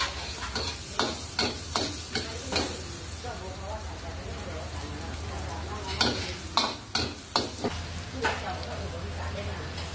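Onion and garlic stir-fried in a pan: a continuous sizzle punctuated by sharp spatula scrapes and clinks in irregular clusters, with someone talking over it.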